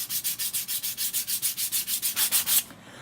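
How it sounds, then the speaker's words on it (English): A small piece of wood for a miniature roll-up garage door sanded by hand with 120 grit sandpaper, about fourteen quick, even back-and-forth scrubbing strokes up close, then stopping abruptly. "This is 120 grit sandpaper."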